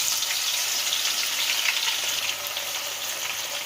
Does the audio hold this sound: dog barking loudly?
no